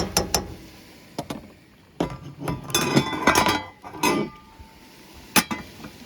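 A spoon stirs rice into boiling water in a cooking pot, making irregular metallic clinks and taps against the pot's side, with scraping and rattling in between.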